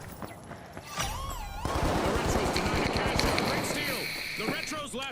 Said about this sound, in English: 2 shot me with a shotgun